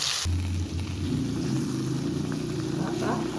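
Masala paste for a Goan recheado surmai fish fry roasting in hot oil over a medium-low gas flame, a steady crackling sizzle with a low rumble underneath, continuous and fairly close throughout.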